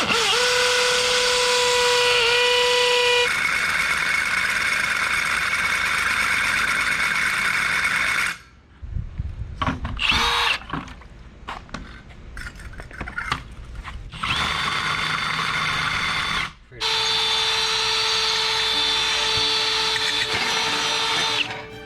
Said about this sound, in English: Have to drill a couple holes in this paver and this paver